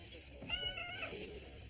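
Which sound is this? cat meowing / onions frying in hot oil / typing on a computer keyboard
cat meowing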